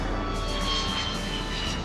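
A U-2 spy plane at Beale Air Force Base roars steadily with a broad, constant jet rush and a high whine, loud and close, with no speech.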